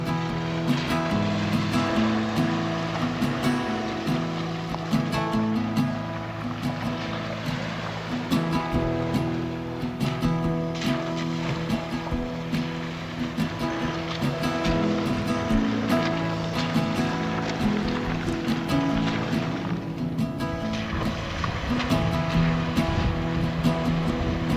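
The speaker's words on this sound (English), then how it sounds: "First river crossing, let's go." A vehicle drives through a river crossing in Central Australia's Finke Gorge area, a long, loud, continuous rush and churn of water with engine rumble underneath and occasional faint voices.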